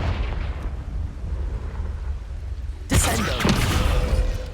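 A Confringo fire spell bursts in Hogwarts Legacy gameplay, a loud sudden explosive blast about two-thirds through, following a stretch of rumbling game noise and then trailing off into roaring debris.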